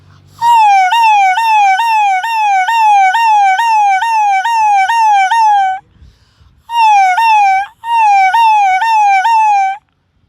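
A man imitates a police siren with his mouth, a wavering wail repeated rapidly, pausing briefly, then resuming in two more bursts; loud and close with no other sounds.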